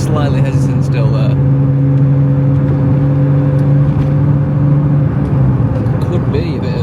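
A BMW E21 fitted with an M50/M52 six-cylinder engine pulls steadily under acceleration in third gear, a loud continuous engine drone with slight hesitation, recorded from inside or close by with a voice speaking over it.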